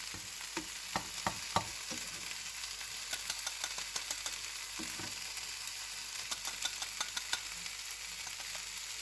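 Onions fry in a pan with a steady, close, hissing sizzle dotted with small crackles and pops, heard alone without any voices.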